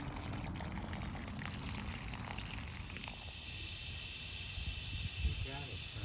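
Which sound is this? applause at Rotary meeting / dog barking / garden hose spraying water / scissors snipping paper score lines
garden hose spraying water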